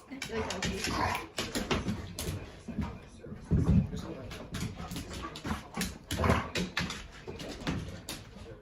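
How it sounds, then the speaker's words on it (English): A dog whimpers, yips and scrambles around excitedly indoors, its restless noises coming in bursts beneath a person talking steadily nearby. "Now my dog's like all going crazy"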